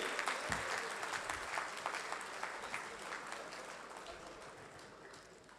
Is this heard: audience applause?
yes